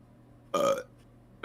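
A single loud burp from an adult man, close and clear, lasting about a quarter second, followed by quiet room tone and a brief onset of another sound at the end.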